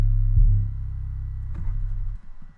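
An 808 bass note plays with a 500 ms delay on the right ear, giving a deep booming tone that sustains, then a second low hit that trails off, with no talk.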